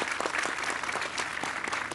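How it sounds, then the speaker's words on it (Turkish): An audience at a Turkish stage event applauds, dense steady clapping from a crowd that stays fairly even throughout. "Bir alkış alalım mı Türkan Hanım'a?"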